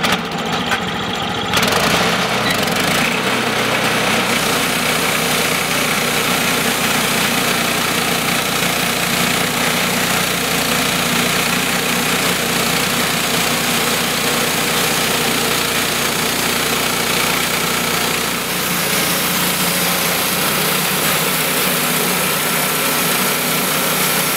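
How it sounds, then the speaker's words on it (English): A sawmill runs loud and steady as its blade cuts through a log, the engine droning continuously for the whole stretch with a brief shift near the start and no voices. "let's go ahead and finish this cut out and see what happens to the blade"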